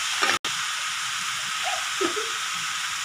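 Ivy gourd with salt and turmeric stirred in a pan, a steady sizzling hiss with a few soft scraping stirs, close up and without talking.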